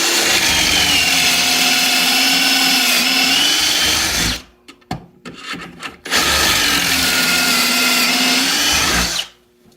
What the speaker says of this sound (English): bring it to full speed and go through. So we'll go ahead and get this drilled